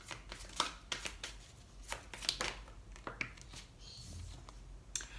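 Tarot cards shuffled and drawn by hand: soft, quiet papery flicks, snaps and rustles in an irregular rhythm, close and faint against a hushed room.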